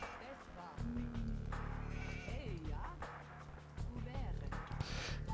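Sheep bleating in Age of Empires 2, a few short calls mixed into dense game sounds and music, with someone talking over much of it.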